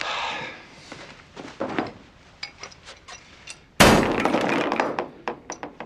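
A glass ashtray is struck and shatters, with a few scattered knocks and thumps leading up to one loud, sharp crash followed by the clatter of falling pieces.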